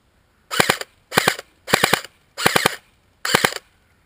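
An airsoft CM16 Raider replica fed by a G&G mid-cap magazine fires five short full-auto bursts, each a rapid crackling string of shots separated by brief pauses, crisp and close in a quiet setting.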